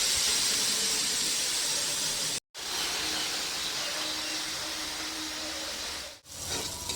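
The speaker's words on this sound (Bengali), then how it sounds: "দেখুন খুব ভালো করে মশলাটা কষিয়ে নিচ্ছে" Salt, turmeric, ginger and cumin sauté in a pan for a small-fish curry, giving a continuous close hiss and sizzle with two brief dropouts.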